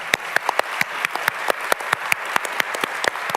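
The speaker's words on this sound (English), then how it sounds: "Let's give them a round of applause." A small audience at the Digital Preservation Awards ceremony claps for the finalists, with distinct, close individual claps in a brisk, fairly even rhythm and no voices over it.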